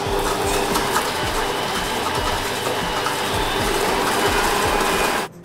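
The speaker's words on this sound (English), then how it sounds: "So we're going to put this into our mixer. We're going to start it off at a very low speed." Electric stand mixer running at very low speed while creaming unsalted butter and caster sugar, a continuous whirring motor hum with a rhythmic mechanical churning beat throughout, close and steady until it cuts off at the end.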